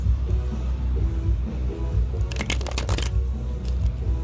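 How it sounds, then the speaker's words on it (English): Cards riffle-shuffled in a quick burst near the middle, over a steady low background of music and room noise. "I'm shuffling, you guys."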